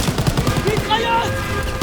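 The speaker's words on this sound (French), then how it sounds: "Mitrailleuse!" Machine gun fire in the World War II shooter Call of Duty WWII, a quick rattling burst of shots up close at the start under loud battle noise, with a shouted voice in the mix.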